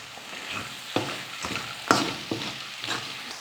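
Raw mango pieces sautéing in oil in a pan for a mango rice dish: a steady close sizzle broken by regular spatula scrapes and taps about twice a second, moderately loud, with no voices.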